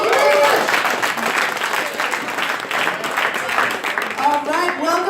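Applause and cheering from an audience at a startup weekend fintech opening ceremony in Geneva, dense and sustained throughout, with voices whooping over the clapping.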